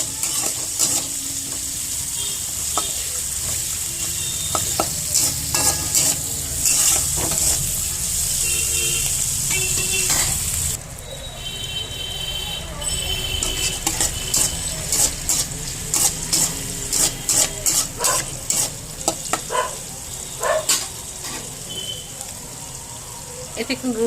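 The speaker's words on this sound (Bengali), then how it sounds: "এই পেঁয়াজটা একটু ভাজবো।" A small onion fries in oil and is stirred in the pan, producing a continuous close sizzle with scraping spatula strokes and clatter, partly under a voice talking.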